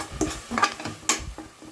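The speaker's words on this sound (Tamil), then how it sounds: "இப்போ நம்ம வதக்கிக்கலாம்." Masala being sautéed and stirred in a pan with chilli powder, giving a few close scraping stirs with light sizzling and soft clinks of the utensil against the pan.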